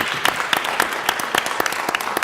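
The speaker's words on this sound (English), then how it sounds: "And that deserves a round big of applause." Audience applause after a speech on Caribbean maritime security, steady dense clapping from a crowd lasting a couple of seconds at moderate volume.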